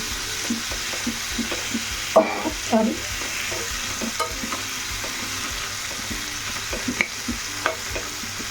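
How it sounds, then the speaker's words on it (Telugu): Tomatoes stewing in a pan for cucumber chutney, with a steady soft sizzle and repeated scraping stirs of a spoon against the pan, close and fairly quiet, no voices. "బాగా టమాటాని మగ్గనివ్వాలి."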